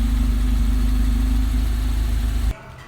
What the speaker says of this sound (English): Start the engine for control if exists any leak.